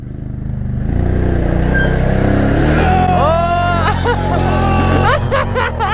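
A Yamaha 450 WRF enduro bike or Can-Am Outlander 1000 ATV revving up off-road, its engine climbing loud and close into a rising whine with several sharp throttle blips, while people talk and laugh.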